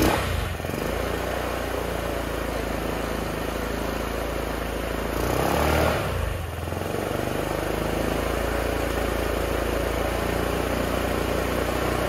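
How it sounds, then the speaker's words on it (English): A cheap, junky Chinese scooter engine runs at a steady idle, close and fairly loud, with a brief swell in revs midway before settling back into an even buzzing drone. "Check that out. This scooter runs."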